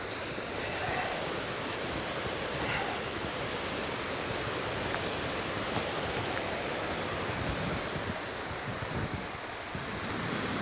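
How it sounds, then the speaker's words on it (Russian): Continuous broadband rushing of a small waterfall on a wild river, heard from its base as a steady, loud roar of falling water with wind noise mixed in and no talking. "Итак, мы стали у подножья водопада."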